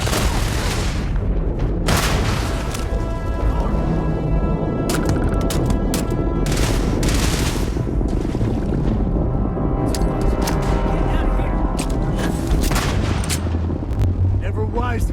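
Loud, dense gunfire in a video game battle, sharp repeated shots and booming blasts packed together without pause, with voices shouting over the fight.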